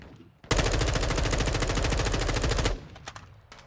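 A long automatic burst of gunfire in Call of Duty Warzone 2.0 Resurgence, rapid evenly spaced shots lasting about two seconds, loud and close, then cutting off into quieter ambience.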